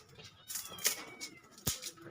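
A cat gives a few short, faint meows in quick succession against a quiet background, with a soft tapping noise mixed in.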